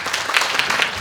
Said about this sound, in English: let's welcome John with a big round of applause